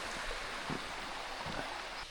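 A small river creek runs through a forest, its steady broadband wash of flowing water continuous and moderately close, with a few soft low thumps scattered through it.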